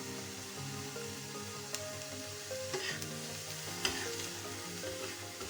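Onion and capsicum frying lightly with a little salt for a homemade veg taco filling, a soft continuous sizzle under occasional spatula scrapes and taps as the pan is stirred, quiet and free of talk.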